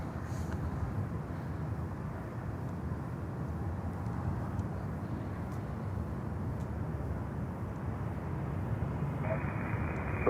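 An American Airlines Boeing 737-800 at Miami Airport, a steady, broad jet engine roar rumbling continuously at moderate distance, with faint radio chatter under it.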